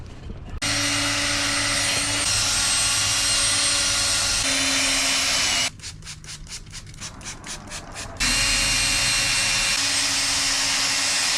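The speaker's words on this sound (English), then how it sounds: "grab our drill, which is over there, and our drill has a wool pad on there" A handheld power drill fitted with a wool pad polishes a hazy car headlight, giving a loud steady whine that pauses briefly for a few seconds of rubbing, then starts up again, with no talk.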